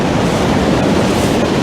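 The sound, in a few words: big ocean waves at the shore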